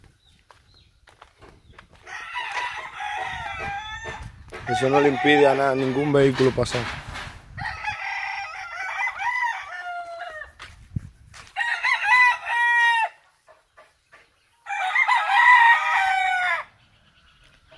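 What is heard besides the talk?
roosters crowing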